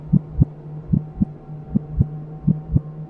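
Heartbeat sound effect under a scary story narration, a steady lub-dub pulse repeating four times over a low hum, close and muffled, with no voice.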